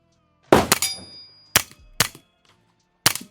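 Suppressed pistol-calibre shots through a BOE Incolite 9S suppressor ring out close by, four sharp cracks with a metallic clang and brief ring, spaced irregularly with quiet gaps between.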